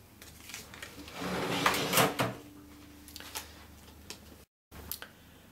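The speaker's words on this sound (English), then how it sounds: "the cash drawer opens" A cash register drawer slides open with a quick mechanical clatter and click, a brief burst followed by a few softer clicks in a quiet room.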